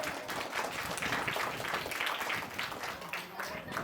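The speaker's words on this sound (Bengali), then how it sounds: "হাততালি হয়ে যাক।" Audience applause for a teacher at a Teachers' Day speech event: a steady, dense wash of many hands clapping together for several seconds, fairly even in loudness from start to finish.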